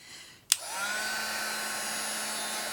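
A heat gun switches on with a sharp click and settles into a steady, close whooshing blow of hot air over embossed work on jeans, holding evenly to the end with no talking.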